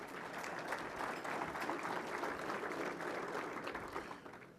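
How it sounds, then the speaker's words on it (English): Banquet audience at a university scholarship and ring banquet gives sustained applause, a dense, even patter of many hands clapping in a large room, tapering slightly at the end. "So nice round of applause for those people and the hard work they put in tonight."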